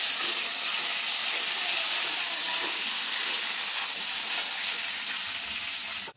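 Potatoes with turmeric and salt frying in oil until reddish, a steady, loud, hissing sizzle close up that holds evenly throughout before ending sharply.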